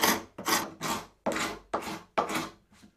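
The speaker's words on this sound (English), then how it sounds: "I'm just going to quickly scrape that off in my vise." Dried glue squeeze-out scraped off wood held in a vise: seven rasping strokes about half a second apart, close and loud, the last one softer.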